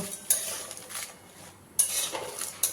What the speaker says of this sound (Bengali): এবার এগুলোকে একটু ভাজা করব।